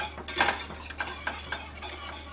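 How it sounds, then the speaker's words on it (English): A utensil stirs sauce with garlic powder in a pot over medium heat, giving close, irregular scraping and clinking knocks against the metal and no voices. "I'm going to stir it all together."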